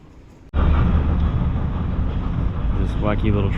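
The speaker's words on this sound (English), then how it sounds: "This wacky little train goes around in circles." A small tourist road train's engine starts abruptly with a loud, steady rumble and continues close by in Vilnius, Lithuania, with a voice talking faintly underneath near the end.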